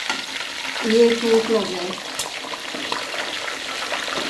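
A Lahori chargha chicken fries in a pan after being turned to its second side, giving a steady close sizzle with brief stirring and scraping noises, while someone speaks briefly over it.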